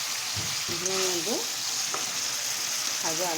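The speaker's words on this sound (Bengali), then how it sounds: "ভাজা আলুটাও মিশিয়ে দিই।" Fried potatoes stirred into meat frying in a pan, giving a steady close sizzle with scraping stir strokes, while a voice speaks briefly over it.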